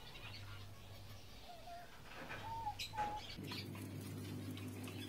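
Diamond doves in a home cage setup give a few soft, brief tonal calls, moderately close, over a steady low hum that grows louder partway through.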